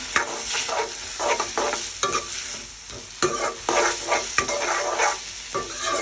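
Fried rice with soy sauce being stir-fried in a pan, a steady close sizzle broken by repeated scraping strokes of a spatula, roughly one or two per second, with no talking.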